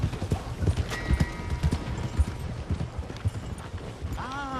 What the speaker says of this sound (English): So this is the horse that we're gonna have to use for transportation for the time being.